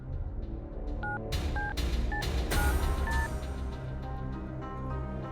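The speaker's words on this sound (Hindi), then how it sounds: "अभी रिया को फोन लगाते हैं।" A telephone keypad beeps out a series of short dialing tones, one after another, over a low background hum.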